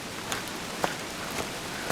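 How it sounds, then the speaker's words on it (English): Rain patters on a plastic covering during a downhill walk near Zurich, a close, dense hiss with a few sharper drop taps standing out at irregular moments, no voices. "now it starts raining again."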